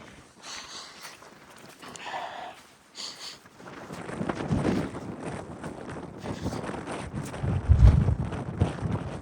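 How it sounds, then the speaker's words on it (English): Wind on a high fell in the Lake District, gusting and buffeting the microphone in uneven bursts that grow stronger and rougher toward the end. "it's suddenly very windy up here"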